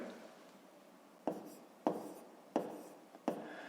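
Chalk or pen strikes a board as numbers are written in a fifth-grade math lesson: four sharp separate taps, each trailing into a short scrape, close and fairly quiet over a faint room hiss.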